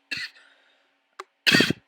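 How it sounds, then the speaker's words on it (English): A person coughs twice in a barbershop during a haircut, a short cough followed by a stronger, harsher one after a brief pause. "excuse my coughing"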